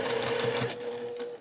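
Sewing machine back stitching while finishing a cross stitch piece, a brief close burst of rapid mechanical stitching that eases off toward the end.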